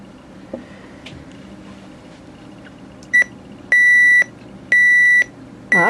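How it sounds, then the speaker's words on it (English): A Sony ICF-CS750 clock radio alarm goes off with loud, fixed-pitch electronic beeps: one short beep, then two longer tones in a repeating pattern, heard close and clear over a quiet background. "Let's go ahead and set an alarm and have a listen to that."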